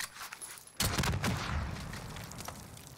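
A sudden burst of gunfire in Warzone breaks in after a quiet moment, then a few more rapid shots ring out with a lingering echoing tail.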